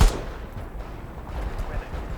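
Artillery fire in the World War 3 video game, a heavy close blast at the start followed by rumbling distant booms and crackling gunfire over continuous battlefield noise.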